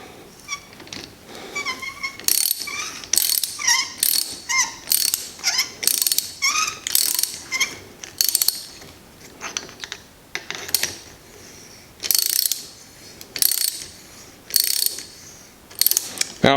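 Ratcheting clicks in quick bursts as Spy R Type bar end mirrors are tightened on a Ducati Monster 696, fairly close and crisp, with short pauses between runs of clicks.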